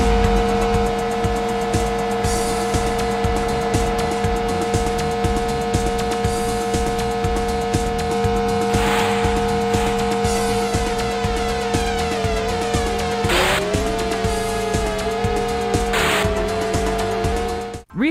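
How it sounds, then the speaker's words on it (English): Engine drone from a racing car in a Japan-only PS1 racing game, a steady sustained tone with synthetic harmonics and a few brief tire or turn noises, loud and continuous under game music. "I think some of the car sound effects and the turn noises can sound a little weak"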